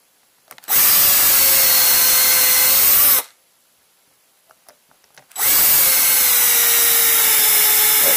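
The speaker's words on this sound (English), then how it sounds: "that was a weak weedy little 10 volt drill for that" A small 10-volt cordless drill whines steadily in two long runs drilling wood, with a short pause of quiet clicks and taps between them; close and loud, no talking.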